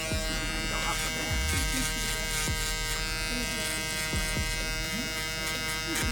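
An electric hair trimmer buzzes steadily while cutting a mid fade, a close, continuous hum with small shifts as the blade moves over the head and faint clicks, and someone talks over it.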